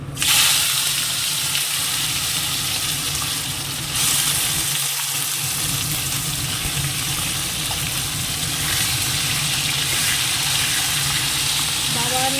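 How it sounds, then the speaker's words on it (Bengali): Chicken frying in a pan gives a loud, steady sizzle that runs throughout, with a brief clatter near the start and a few stirring knocks midway. "চিকেনটা আগে একটু ফ্রাই করে দেবো"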